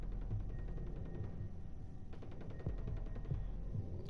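Gunfire in the game Ghost Recon Breakpoint, a fairly faint run of rapid shots crackling over a steady low hum, with a few louder cracks standing out.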